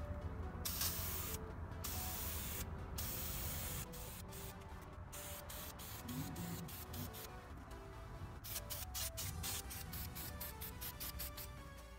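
Aerosol spray paint hissing onto brake calipers for a fifth coat, painted yellow, in continuous close bursts broken by brief pauses and a run of quick short sprays near the end.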